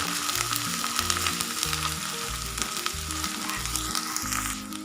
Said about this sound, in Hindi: इनमें अदरक लहसुन का पेस्ट ऐड करती हूँ। इनको भी मैं अच्छे से भून लूँगी।